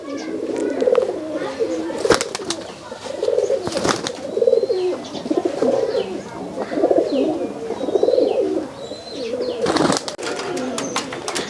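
Pigeons at a pigeon farm coo in repeated, rhythmic low bursts close by, with sharp clicks and rustles between them and faint chirps in the background.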